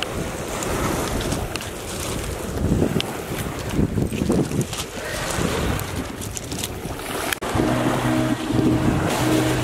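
Ocean surf washes onto a beach in a loud, rushing wash with gusty wind buffeting the microphone, while a brief low tonal hum enters near the end.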